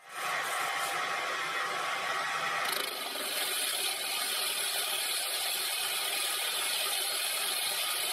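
A Proxxon PD 250/e hobby lathe makes a shallow finish pass with insert tooling, throwing long stringy chips, giving a steady close hiss and whir of motor and cutting that continues alone with no talking.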